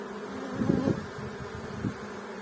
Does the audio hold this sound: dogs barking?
no